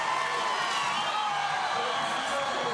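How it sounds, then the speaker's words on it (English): At an outdoor X Games inline skating event in Newport, a large crowd yells and cheers in a dense, continuous roar that holds steady at full volume with no breaks. "the crowd is yelling itself hoarse"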